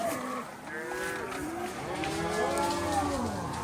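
Cattle mooing during a big pasture move on a Colorado ranch, several overlapping drawn-out calls from a herd at mid distance, continuous over steady outdoor background.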